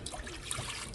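Water poured from a measuring cup into a pan for paella, a short, faint splashing trickle heard alone.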